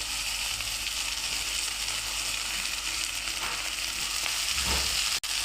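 Soaked kurdai going into a hot salted pan, a continuous close sizzle with soft stirring movements and one short sharp knock near the end.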